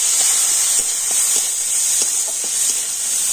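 Chopped tomato with a pinch of salt sizzles in hot oil, a steady loud hiss close by with faint scattered pops and clicks and no talking.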